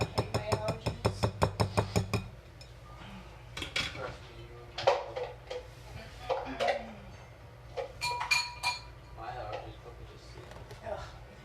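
A utensil beats apple bread batter in a bowl with a quick run of rhythmic clinks, then scattered scrapes and taps as people talk nearby.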